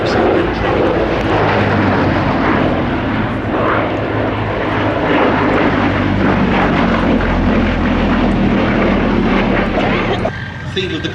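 Second World War fighters flying at an airshow, a Gloster Gladiator, Hawker Hurricane and Messerschmitt Bf 109, give a loud sustained piston-engine roar with propeller drone, heavy and continuous before easing near the end, with talk over it.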